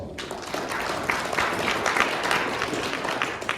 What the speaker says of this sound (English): Ladies and gentlemen, give us a round of applause.